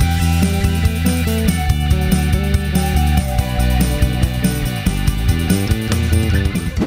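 A PRS Gary Grainger bass guitar plays a rhythmic line of plucked notes, loud and close, with steady percussive attacks and no talking.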